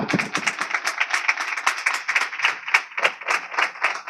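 A church congregation at Sunday worship claps loudly in a fast, even rhythm, sharp hand claps repeating steadily throughout, close and dominant with no talk over them.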